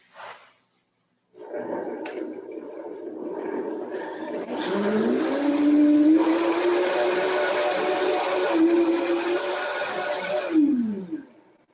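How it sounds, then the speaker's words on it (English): A blender whirring as it blends a shallot and oil dressing: a short burst, a pause, then a sustained motor hum that climbs in pitch as the mixture smooths out and cuts off at the end. "And I got my blender over here. And then give this a blend."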